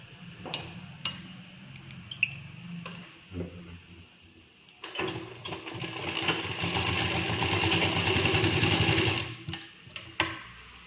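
A sewing machine stitching the shoulder seams of a blouse: a few clicks and handling taps first, then a sustained whirring run of rapid stitching for several seconds before stopping with a final knock.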